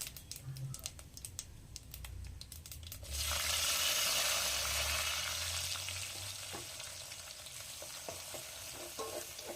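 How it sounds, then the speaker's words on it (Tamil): Onions, green chillies and curry leaves are dropped into hot oil for a brinjal fish curry, setting off a sudden loud sizzle that settles into steady frying with light stirring taps. "வெங்காயம், பச்சை மிளகாய், கருவேப்பிலை இதெல்லாம் போட்டு வெங்காயம் நல்லா பொன்னிறமாக வர வரைக்கும் வதக்கணும்"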